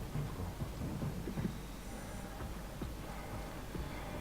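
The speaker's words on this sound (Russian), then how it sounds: "По ощущениям, наверху шторм начался." Distant storm thunder rumbles low and muffled as heard from deep underwater in the game Soma, a faint continuous roar with soft thuds and no voices over it.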